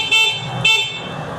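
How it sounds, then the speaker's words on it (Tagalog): Two short horn beeps from a WSP electric scooter by NWOW Ebikes, a 1500-watt model, sounding close and fairly loud with a brief gap between them. "Ito po yung busina natin."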